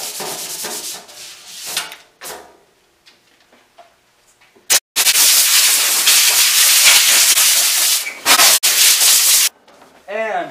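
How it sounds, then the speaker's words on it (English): Hand sanding a metal fuel tank from a 1976 Mazda RX-5 Cosmo with 80 grit sandpaper, bursts of harsh rasping scrubbing close up, broken by short pauses and a quieter stretch midway. "Scotch-Brite wasn't cutting fast enough, so I went to 80 grit sandpaper."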